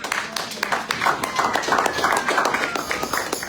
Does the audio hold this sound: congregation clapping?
yes